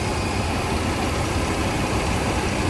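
A 1975 Chevrolet Corvette V8 engine idling steadily and evenly, a continuous low rumble with smooth, unchanging rhythm and no voices.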